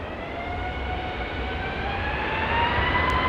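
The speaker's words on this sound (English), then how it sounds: "that flight to Houston's finally going out" Airliner taking off from Dallas Love Field, a steady distant jet engine roar that slowly grows louder over a few seconds, with no talk.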